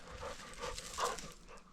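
Short, quiet bursts of a dog panting and huffing nearby, with a faint whimpery edge, lasting under two seconds.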